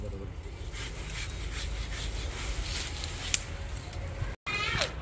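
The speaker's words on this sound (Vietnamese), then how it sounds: "Cưa lại cái vết cưa cho nó bằng cho anh." A hand saw cuts back and forth through a branch of a fig bonsai, rhythmic rasping strokes close up, under a steady background hum, with a brief dropout near the end.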